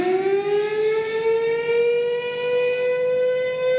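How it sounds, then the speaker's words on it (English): A loud wailing World War II air raid siren holds a steady rising tone with strong harmonics, sounding continuously throughout. "So when the Luftwaffe approached, local air raid wardens arranged for sounding of the sirens."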